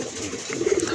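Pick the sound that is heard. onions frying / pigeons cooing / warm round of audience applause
pigeons cooing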